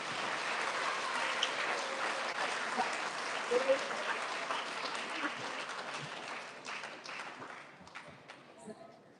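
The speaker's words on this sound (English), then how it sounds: "Big round of applause to our fifth graders." Dense, continuous applause from an elementary school audience honoring fifth graders at a student recognition ceremony, holding steady before thinning out and fading toward the end.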